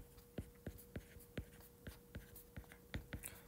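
Pen strokes from chemistry equations being written by hand, a steady series of short, quiet scratches and taps up close, with no talking.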